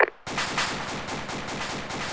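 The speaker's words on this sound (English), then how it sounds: "Ghost, you know where those guys are firing from?" Sustained automatic gunfire in the military game Arma, a rapid, steady stream of loud shots that starts abruptly and keeps rattling without pause.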